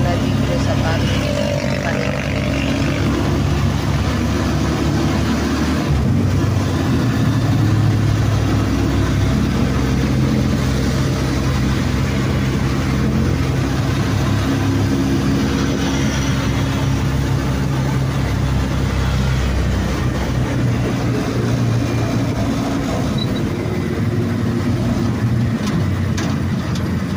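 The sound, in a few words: road traffic with car engines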